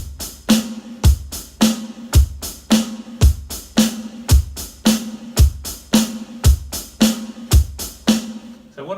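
Rock drum groove at chorus intensity, hi-hats played in quicker notes over alternating bass drum and snare hits, crisp, close and steady with no one speaking.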